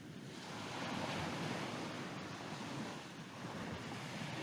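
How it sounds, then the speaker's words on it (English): Wind blowing above the open ocean with waves rushing underneath, a steady broadband roar that swells and eases softly, faint and without voices. "The sounds of the wind above."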